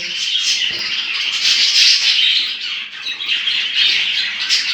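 Budgerigars in a home aviary tending their chicks fill the air with dense, continuous chattering and squawks, close and lively with no pause.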